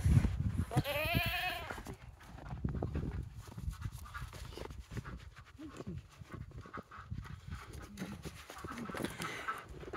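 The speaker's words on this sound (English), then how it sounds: "They're just a couple of pygmy goats that belong to some friends of ours that couldn't keep them anymore" Pygmy goats on a homestead bleat during evening chores, with a few nasal calls up close early on, then quieter shuffling and movement around the pen.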